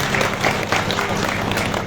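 An audience claps at a political rally in Kotkhai, Himachal Pradesh, with steady, dense applause from a crowd that keeps going at an even level for the full stretch.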